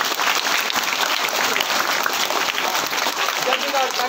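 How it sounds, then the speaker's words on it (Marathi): An audience at a tree-planting event breaks into dense, loud, continuous applause under a voice. "टाळ्या वाजवा सगळेजण."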